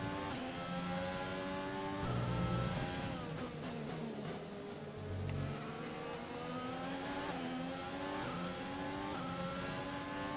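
F1 2020 video game cars entering the pit lane, a continuous loud engine whine with revs falling and rising as cars slow and pass, layered tonal engine drones throughout without talking.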